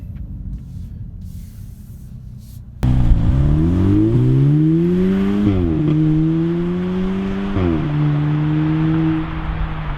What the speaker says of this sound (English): let's just see what it's like for the acceleration, shall we?